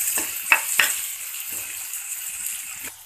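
Onions fry in oil with turmeric powder, giving a soft, fading sizzle with a few sharp clicks and taps of a utensil near the start. The sound is close but quiet, and no one speaks.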